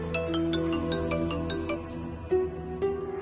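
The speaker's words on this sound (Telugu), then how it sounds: "రింగ్ అవుతోంది." A phone ringtone plays a melodic electronic tune of repeating tones, loud and close, with no one talking.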